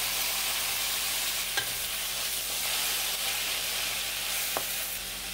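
Steady sizzling of chopped tomatoes frying in a pan, with a couple of faint clinks of stirring, no talking.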